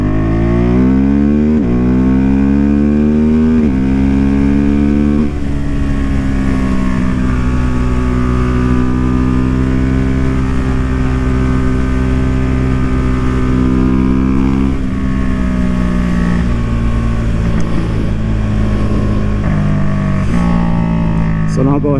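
Husqvarna Vitpilen 401 motorcycle engine revs up loudly through several gear changes, its pitch climbing in repeated sweeps with brief drops at each shift, a steady close-up engine roar throughout.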